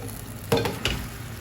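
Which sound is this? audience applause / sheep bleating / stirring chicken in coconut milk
stirring chicken in coconut milk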